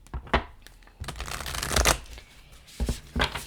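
Tarot cards shuffled by hand close up, with several quick riffling bursts and soft slaps of the deck, broken by brief pauses.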